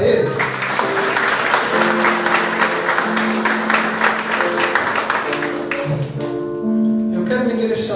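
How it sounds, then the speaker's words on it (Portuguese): A church congregation claps during a Holy Communion service, with dense, continuous applause and sustained tones from music or voices layered underneath, loud and filling the room before thinning near the end. "Dê uma salva de palmas para Ele."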